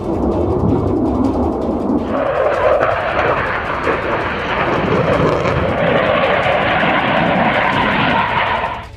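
A fighter jet roars past, loud and close, as a broad, heavy rumble of engine thrust that deepens and thickens after the first couple of seconds and holds steady before easing off at the end.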